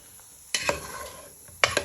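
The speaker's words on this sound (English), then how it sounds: "So what you're doing is just frying our onions and garlic." Onions and garlic frying in a pan with chorizo for a smoked fish and chickpea stew: a low steady sizzle, broken by two pairs of close scraping stirs.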